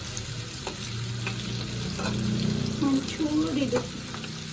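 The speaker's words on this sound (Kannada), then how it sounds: "ಸ್ವಲ್ಪ ಈರುಳ್ಳಿ ಫ್ರೈ ಆಗಬೇಕು" Onion frying in a pan for a tomato gojju-style gravy, a steady soft sizzle running throughout with a few scraping stirs, while a voice speaks briefly over it.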